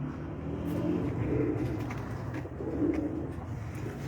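Champion breeder pigeons coo in low, throaty rolling bursts, two swelling phrases close by over a soft background hum, with no voices.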